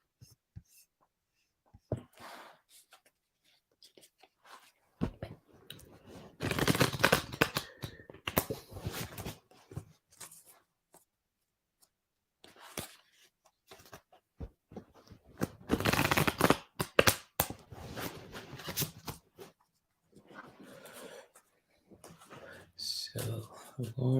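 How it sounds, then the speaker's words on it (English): A deck of cards is shuffled in several bursts of quick riffling and rustling, close by, with speech in between during a spiritual card reading. "So I'm gonna shuffle this deck again"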